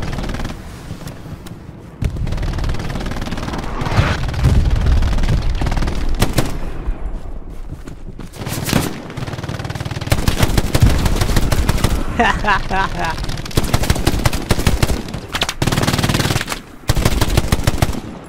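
Sustained bursts of M1918 Browning Automatic Rifle fire in Hell Let Loose urban combat, rapid loud volleys with short pauses, mixed with other distant gunfire and occasional player voices.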